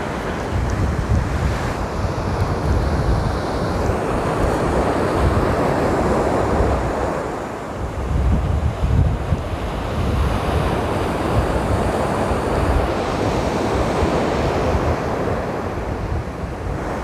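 Ocean waves at Pacifica pier at night, a loud continuous roar of surf rising and falling in long swells, heavily mixed with rumbling wind buffeting the microphone, no voices.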